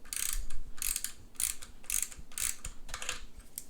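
Ratchet wrench loosening a stuck screw on a Singer 301 sewing machine motor, a series of about six quick, bright clicking bursts in an even rhythm, close and moderately loud with no talk.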